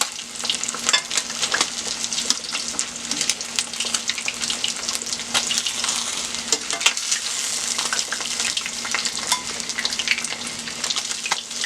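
Fish frying in a pan makes a loud, continuous crackling sizzle up close, with frequent spatters and pops throughout and no voices.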